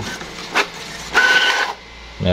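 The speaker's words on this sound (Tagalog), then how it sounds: "Pero nag-start na siya mag-print." A Brother inkjet printer running a print job, giving short mechanical whirring and clicking bursts from the carriage and feed at close range, with pauses between movements.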